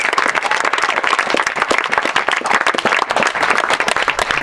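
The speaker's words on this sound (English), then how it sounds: "we should applaud them" A crowd applauds with dense, steady clapping that stays loud throughout.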